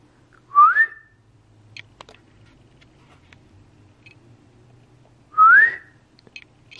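A person gives two short rising whistles to a puppy, several seconds apart, close and clear over faint room noise.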